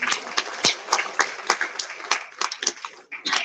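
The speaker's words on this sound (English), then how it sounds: "Can we have a huge round of applause?" An audience claps at a technology and management institute event in New Delhi, loose uneven applause with distinct individual claps and irregular bursts, fairly close.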